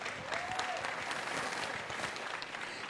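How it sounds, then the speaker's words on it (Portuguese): A seated audience at a public debate held in a favela gives a steady round of clapping, a dense, even patter of many hands with no voices on top, lasting the whole stretch. "Uma salva de palmas, por favor."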